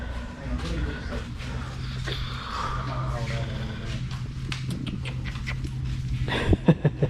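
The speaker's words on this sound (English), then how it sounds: "Big old puppy." A big puppy pants and softly whimpers close by inside a marine and outdoors store, while someone talks over the breathing.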